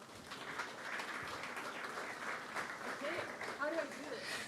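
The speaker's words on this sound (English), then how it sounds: "please give her a warm round of applause" A faint, steady wash of audience applause for Alexandra as she comes on stage at a chess tournament event, heard from a distance, with voices murmuring through it.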